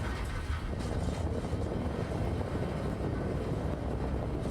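Spacecraft flying in decoupled mode in Star Citizen, a steady broadband engine roar and rumble that holds constant and fairly loud throughout with no talk.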